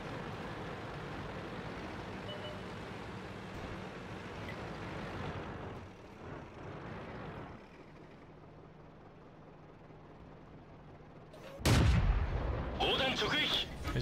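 A Type 5 Ke-Ho light tank's cannon fires in a World of Tanks battle, with a sharp loud boom near the end following a long stretch of engine rumble.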